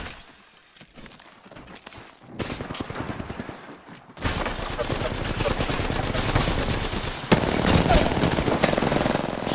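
Rapid automatic gunfire in Apex Legends on PS4 opens as quieter bursts, then erupts into loud, sustained close-range shooting that runs to the end, with the volume jumping higher partway through.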